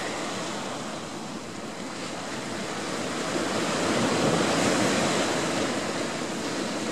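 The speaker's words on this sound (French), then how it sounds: "C'est agréable ce bruit des vagues qui s'écrasent." Continuous roar of waves breaking on a shore, swelling louder midway, with wind buffeting the microphone and no voices.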